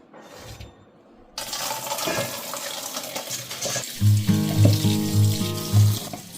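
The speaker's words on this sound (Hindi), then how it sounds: "फिलहाल इसको अच्छी तरीके से मैं धो रही हूँ दाल को" Soaked lentils being washed in water, with running tap water and splashing after a quiet start, growing louder and busier toward the end.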